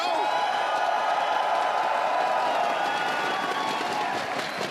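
Crowd at an Apex Legends ALGS Split 1 finals watch party cheering and clapping, a sustained dense roar of many voices at steady loudness throughout.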